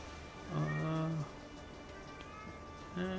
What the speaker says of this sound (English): That's my cat. He's yelling at me.